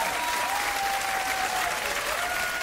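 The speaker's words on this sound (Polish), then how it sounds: "Oczywiście tylko widownia może przerywać ciszę oklaskami" An audience applauds in a steady, dense burst of clapping that continues throughout, fairly loud and without any voices on top.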